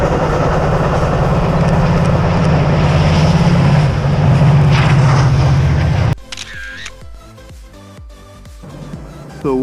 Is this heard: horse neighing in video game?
no